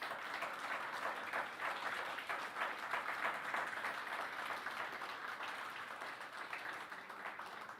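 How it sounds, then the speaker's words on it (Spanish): A church congregation applauds at an evening service, a steady dense wash of clapping that holds at an even level throughout, with no clear talk over it. "levanta los brazos con un fuerte aplauso al Señor en esta noche."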